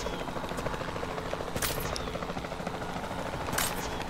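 A helicopter in the video game Jurassic World Evolution 2 thrums steadily and loudly, with a couple of sharp bursts of gunfire cutting in over the rotor drone.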